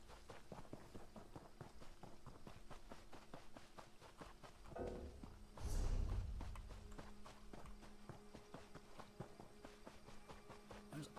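A horse's hooves clip-clop steadily in Elder Scrolls Online, a quiet, even gait through the whole stretch, with one brief louder whoosh midway.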